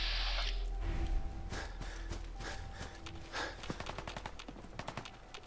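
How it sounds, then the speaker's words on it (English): Scattered gunshots and short automatic bursts from a firefight in Fallout 4, heard at a moderate distance: uneven cracks spread through the clip, with a tight run of rapid shots near the end. "shooting on the other side"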